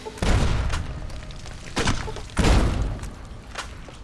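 Frag grenade blast in Fallout: New Vegas, a loud booming explosion with a rumbling tail, followed by a second heavy blast and smaller thuds.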